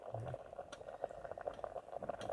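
Amla (Indian gooseberries) boiling in a pot make a faint, steady bubbling simmer with soft irregular pops, heard quietly and alone.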